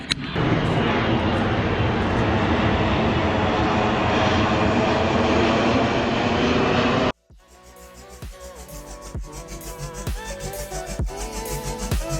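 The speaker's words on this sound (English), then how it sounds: "Airplane's coming." A loud propeller plane drones steadily overhead, then cuts off abruptly; afterward quieter outdoor sounds and scattered clicks follow.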